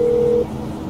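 In-game phone in GTA 5 calling Downtown Cab: a steady electronic call tone holds for about half a second, then cuts off and leaves a low background hum.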